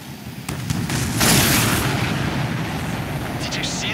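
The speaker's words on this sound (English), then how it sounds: "Did you see that explosion?" A loud explosion in the aerial combat video game Ace Combat 7, a sudden booming blast that swells into a dense, rumbling roar and stays sustained and noisy to the end.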